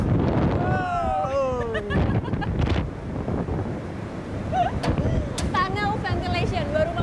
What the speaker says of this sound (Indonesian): Tunnel ventilation, baru masuk udah langsung diguyur dengan angin